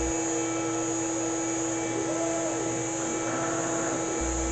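A CNC router spindle turns while a closed-loop servo motor drives the Z-axis, giving a steady high whine with faint rising and falling motor tones from the axis moving back and forth.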